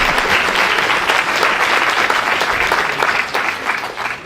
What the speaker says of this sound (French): nous comptons sur vos applaudissements.